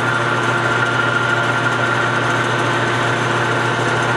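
A lathe runs steadily while a drill bores into a banjo bolt, giving a continuous even machine hum with a constant whine and no pauses, no voices heard.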